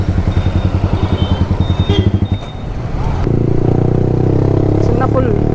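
A V3 motorcycle with a modified exhaust idles with a fast, lumpy throb, then blips and revs into a steady higher drone, with small pops near the end.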